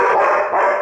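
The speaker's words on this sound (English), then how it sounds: "that's a big girl bark." Charlie, a female pet dog, gives one loud, close, sustained bark lasting under a second, with no voices.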